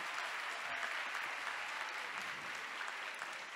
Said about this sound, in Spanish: Solicito un fuerte aplauso para ellos.